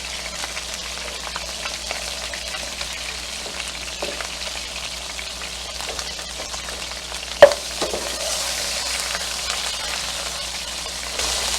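A burger patty sizzles steadily in a pan, a soft constant frying hiss with one sharp clink partway through.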